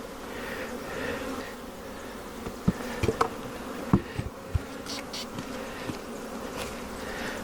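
Honey bees buzz around a beehive split full of brood, a continuous droning hum with individual bees zipping close by, plus a few sharp taps and knocks from the hive equipment.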